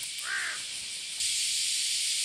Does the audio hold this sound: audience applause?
no